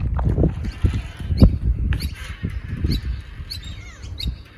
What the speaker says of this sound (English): Birds aren't happy with this little fella. They're saying bugger off.